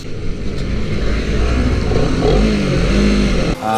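A Honda CBR 250 RR sport motorcycle revving hard and holding a loud, droning high-rpm engine note nearby, briefly cutting off near the end.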